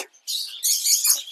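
A flurry of high, sharp chirps from many small birds, including cockatiels, Java sparrows and long-tailed grass finches, bright and close, in short overlapping bursts.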